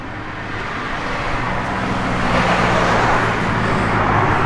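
A 1970 Dodge Super Bee with a cammed engine and a 4-speed manual idles steadily in a loud, continuous low rumble, close up, with no talking.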